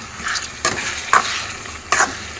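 A spatula stirs gongura chicken curry in a pan, three or four quick scraping strokes over a light sizzle, loud and close with no voices.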